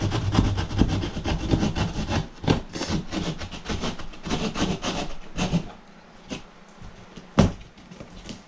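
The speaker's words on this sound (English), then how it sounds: "I get my trusty saw." Hand saw cutting through wood during a shower repair, rough back-and-forth rasping strokes up close for the first several seconds, then slowing to a few isolated scrapes and knocks.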